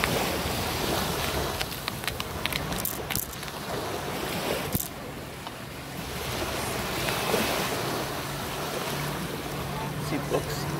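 Ocean surf washing onto the sand at Fort Myers Beach, Florida, a steady broadband wash with gusts of wind noise on the microphone and occasional clicks, continuous and fairly close throughout.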